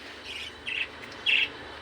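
Caged birds, including pigeons of various breeds, give three short, high chirps in quick succession, fairly faint against a quiet background hum, with no talk.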